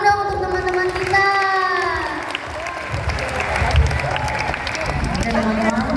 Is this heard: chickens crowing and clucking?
no